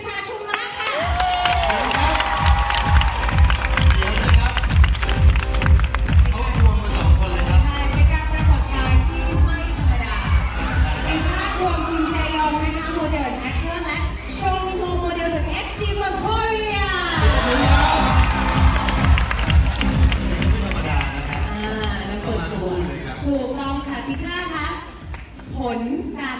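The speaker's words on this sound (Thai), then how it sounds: "ขอเสียงปรบมือกับเดอะเฟสไทยแลนด์คนที่2" At The Face Thailand Season 3 finale, the studio audience claps and cheers for the runner-up. Lively crowd noise with shouts swells and recedes beneath a rhythmic musical beat and voices.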